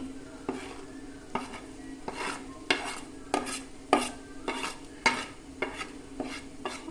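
Chili powder is sautéed in a pan for a Kerala-style red snapper fish curry, with a spoon scraping and stirring in a steady rhythm of soft scrapes over a faint sizzle, close up and without talk.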